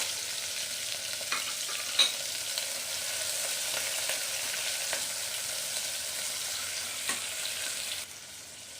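Tomato, green chili and curry leaves frying in a pan, a steady close sizzle running throughout with a few faint clicks of stirring, then dropping slightly quieter near the end; no voices.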